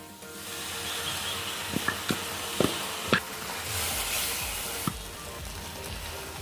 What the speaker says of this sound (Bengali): ভালো করে নেড়ে চেড়ে মিশিয়ে নেব। দিয়ে দেব ওই পেস্ট।